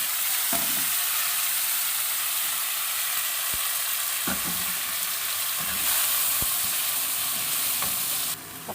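Onions and tomatoes frying in a pan for a provincial sardines, egg and tomato dish, a steady broadband sizzle with occasional sharp utensil clicks and stirring scrapes throughout, close and loud with no talking.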